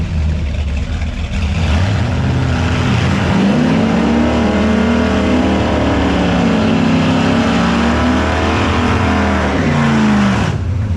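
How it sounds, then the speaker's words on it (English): Drag racing car doing a burnout at a drag racing event with nitrous, a loud sustained engine roar with rising and falling revs across the whole stretch, close by and continuous, no talk over it. "these guys know how to do a burnout"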